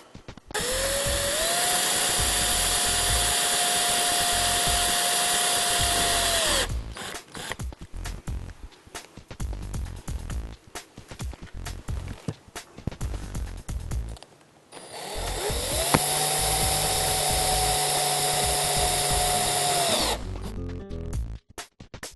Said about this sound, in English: Now I started out drilling my holes with a uni bit.